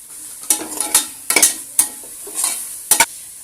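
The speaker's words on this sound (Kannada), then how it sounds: "ಎಲ್ಲ ಮಿಕ್ಸ್ ಮಾಡ್ಕೊಳ್ಳೋಣ" Mint and coriander leaves being stirred into a mutton biryani mixture in a pot, giving repeated scraping, clattering stirs at an uneven rhythm with a faint sizzle between strokes, close and fairly loud, with no voices.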